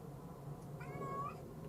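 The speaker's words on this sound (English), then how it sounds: "Hello, cat." A cat meows in a drawn-out, wavering call lasting about half a second, close by in a workshop where a Fender LSR roller nut is being fitted, over a steady background hum.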